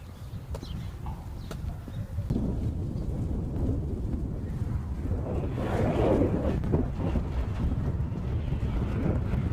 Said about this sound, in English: pretty windy day today